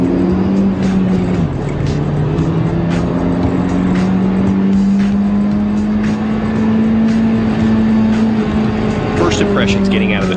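A 2013 Hyundai Genesis Coupe on a racetrack gives a steady, loud engine drone that rises and falls gently with the throttle as it laps, with a voice talking over it throughout.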